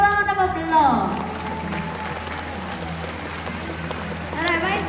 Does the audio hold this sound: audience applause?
yes